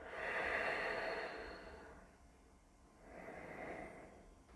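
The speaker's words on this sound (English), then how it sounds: "take 3 deep breaths here" Two slow, deep breaths during a yoga twist, each a long airy exhale heard close and soft, with a brief pause between them.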